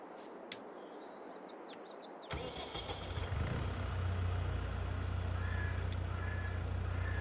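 Birds chirp faintly before a diesel farm utility vehicle's engine cranks and catches, then settles into a steady, loud, rumbling idle that runs to the end, with no talking.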